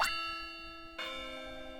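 The school bell in the Pokémon Ranger video game gives two clear chime strikes with ringing tones. The second strike comes about a second after the first, and both sustain and decay alone.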